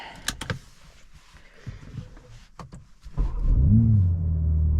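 A 2023 BMW M3 Competition xDrive's engine hums quietly under some clicks, then swells into a loud, rising rev as the car accelerates nearby.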